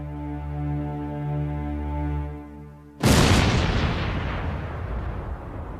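Big Bertha, a huge German heavy cannon, fires one sudden deep boom that cuts through a sustained low musical drone, followed by a long rumbling roar that slowly fades.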